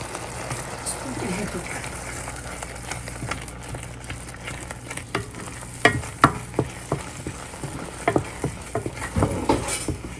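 Ground masala of lentils, chana dal, coconut, dried red chillies, coriander seed, cumin, fenugreek and salt being stirred into raw mango cooking in a pan, with a steady sizzle and scraping, a run of sharper clinks near the end, and a voice talking underneath.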